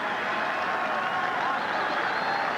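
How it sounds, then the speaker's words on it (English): Crowd applause at a 1988 CFL football game between the Winnipeg Blue Bombers and Toronto Argonauts as an injured player leaves the field, a steady wash of distant clapping from a large stadium crowd throughout. "Smith getting quite a round of applause as he leaves the field"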